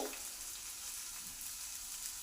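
Fish fillets frying in hot oil in a pan give a soft, steady sizzle and crackle, faint and unbroken, with no voices.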